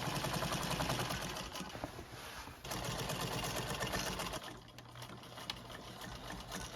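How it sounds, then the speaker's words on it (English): A sewing machine stitches leather underarm reinforcements on a WWII RAF leather jerkin, running in a continuous quiet mechanical chatter with slight speed changes and a brief dip partway through, no voices. "I then sewed the reinforcements using my machine."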